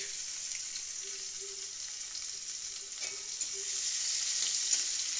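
Chopped onions frying with whole garam masala in a pan for a Bengali-style chicken curry, giving a steady close sizzle that continues throughout with faint stirring.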